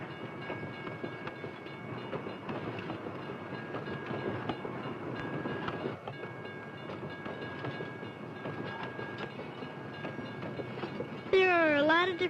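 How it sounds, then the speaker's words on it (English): A freight train rumbles past with a steady rolling clatter of wheels on track, and a brief high warbling squeal rises near the end. "You can also see goods being moved on a train."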